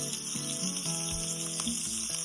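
Butter melting in about a spoonful of coconut oil in a pan for a Kerala-style chicken fry gives a steady, close, even sizzle with no pauses, and a soft tonal background hum runs underneath.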